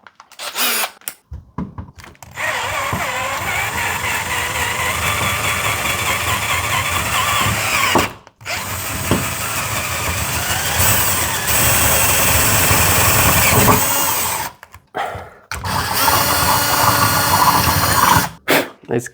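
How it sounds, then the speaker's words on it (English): A power drill fitted with a 3/8 bit bores a peephole through a front door, whirring loudly and steadily in long sustained runs that are broken by brief pauses where the trigger is released. "We're gonna go maybe to the 3/8, drill that out first"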